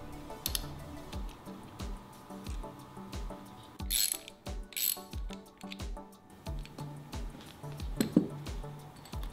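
Repeated ratcheting clicks from a hand tool undoing the bolts on a 2016 Suzuki 15HP outboard high-pressure fuel pump, steady rhythmic pawl ticks with occasional metallic clinks, close and fairly quiet, with no talking.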